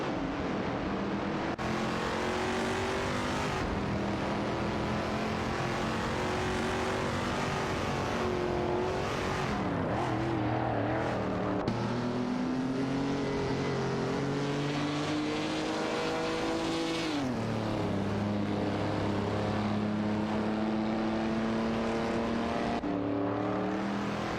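Several race cars in a racing video game, engines droning loudly and continuously, with pitch rising through the gears and dropping at shifts as the cars run close together.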